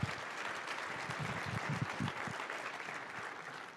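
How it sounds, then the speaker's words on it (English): A conference audience applauds contest winners in a big room, a steady wash of many hands clapping that holds throughout without speech on top. "Go ahead and give these two an applause."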